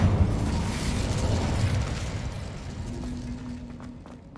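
An Incendio fire spell cast in Hogwarts Legacy bursts out as a loud, booming blast that fades over several seconds. A faint steady tone rises near the end. No voices.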